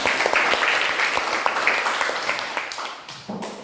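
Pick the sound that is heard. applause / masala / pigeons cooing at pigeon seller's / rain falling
applause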